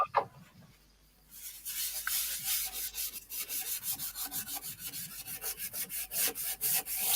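Wood sanded by hand with bare fingers, a close, rhythmic rasp of quick back-and-forth strokes that starts after a quiet second and continues steadily, growing a little louder.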